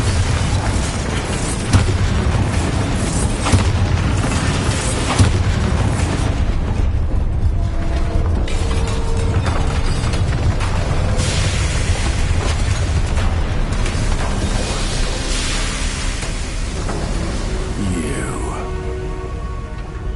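A Bombarda spell in the video game Hogwarts Legacy goes off amid dense, loud game effects, with booming blasts and mechanical ratcheting layered throughout, and a voice speaking briefly over the mix.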